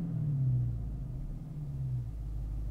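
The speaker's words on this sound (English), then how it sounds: "when I rev it up, you can see that it went a lot higher there." A car engine hums low and steady at close range, its pitch dipping slightly partway through, with no talking.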